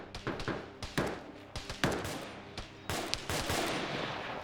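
Auto rifle and .50 cal gunfire in the military shooter OFCRA, a run of sharp close shots in quick bursts and single cracks, fairly quiet overall, with no talk.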